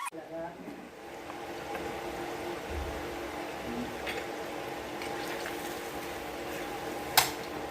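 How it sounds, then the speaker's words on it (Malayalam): Egg bajji frying in hot oil over a high flame, a soft continuous sizzle and bubbling held low under a background voice, with one sharp pop near the end. "ഹൈ ഫ്ലെയിമിൽ വെച്ചിട്ട് തന്നെയാണ് പൊരിച്ചെടുക്കുന്നത്"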